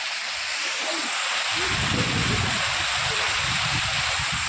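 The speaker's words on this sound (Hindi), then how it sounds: "देखिए किस प्रकार से कैसे कैसे पानी जो है गिर रहा है।" Water tumbles down a hillside waterfall at Haveli Kharagpur, making a steady, broad rushing roar that fills the whole stretch with no break and no voices.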